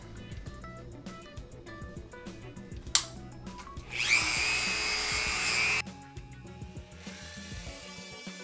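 A rotozip bit cuts plastic on a 1990-94 Chevrolet speaker pod install, a loud, steady high-pitched whine for about two seconds, with clicks, a sharp knock before it, and handling noises around it.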